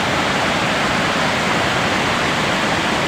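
A waterfall roars steadily, a dense broadband rush of pouring water filling the whole clip with no pauses and no voices.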